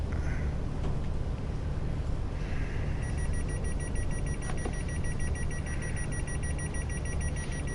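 In-cab alarm in Train Sim World 6 on a Carlisle to London West Coast Main Line run, a steady repeating electronic beep over a constant loud rumble of the train.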